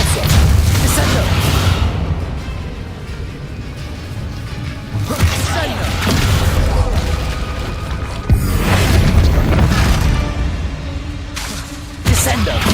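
Depulso and Descendo spells blast in Hogwarts Legacy, the video game: a steady run of loud, heavy booms and crashing impacts with whooshes, repeating every couple of seconds over continuous combat noise.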